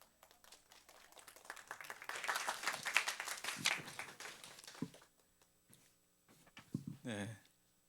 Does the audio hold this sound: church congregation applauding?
yes